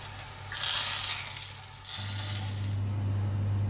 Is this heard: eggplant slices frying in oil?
yes